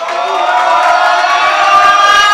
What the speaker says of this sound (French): Applaudissez Djibril, s'il vous plaît.